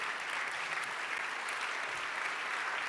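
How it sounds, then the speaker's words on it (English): Steady applause from an audience, a dense wash of clapping that holds at an even level for a few seconds with no voices above it. "Applause."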